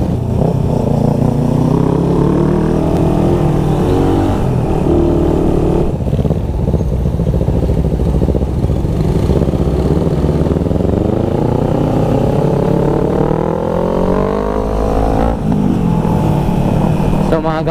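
Motorcycles ridden past on a road, including an Nmax scooter, their engines droning and revving loudly and continuously as they go by, with voices talking over the traffic.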